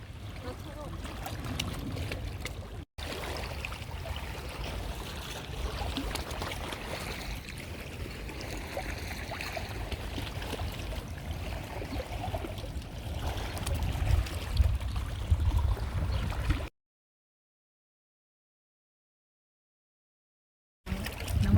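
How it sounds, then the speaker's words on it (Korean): Wind-stirred water ripples and laps near a shaded spot in Zurich, Switzerland, a steady close wash of soft splashing and breezy noise that runs for about seventeen seconds before cutting to silence. "바람이 끊임없이 부나보다 이렇게 물이 일렁거리네"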